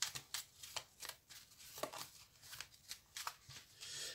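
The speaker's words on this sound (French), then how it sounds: "On va donc battre les cartes." A deck of tarot cards is shuffled by hand in a quiet room, giving soft, rhythmic riffling flutters that repeat about a dozen times with brief pauses between them.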